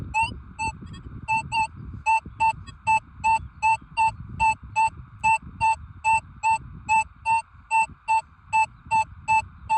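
A Deus 2 metal detector sounds its signal tone over a buried target, a rapid series of short, evenly spaced electronic beeps repeating steadily above low handling noise.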